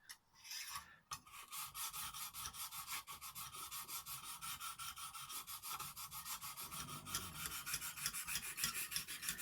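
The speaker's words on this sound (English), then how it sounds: "you can just hear the difference, can't you, of the nice fine diamond" Fine diamond hone from a Lansky sharpener stroking along a CTS 204P steel knife blade, a steady rhythmic rasp of repeated strokes, close and fairly quiet, with no talking.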